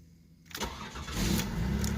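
A 1988 Buick Reatta engine cranks and fires up after a brief quiet moment, then settles into a steady, close idle rumble.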